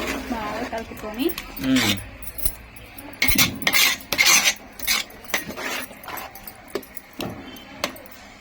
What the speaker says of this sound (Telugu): దగ్గరికి వచ్చేలా కొంచెం బాగా కలుపుకోవాలి